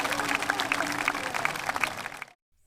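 A memorial audience gathered for a former president cheers and applauds, a dense roar of clapping and voices heard close for about two seconds before cutting off abruptly.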